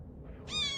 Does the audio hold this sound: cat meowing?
yes